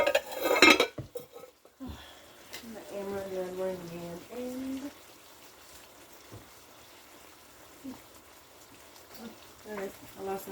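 Dishes clatter and clink as they are shifted around a home kitchen, a burst of sharp knocks at the start followed by scattered lighter taps, with a voice speaking in between.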